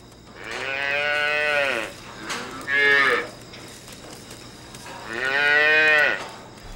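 Cattle on a farm at night give three long, low moos, loud and close, with a short grunt between the first and last calls and a faint steady hum beneath.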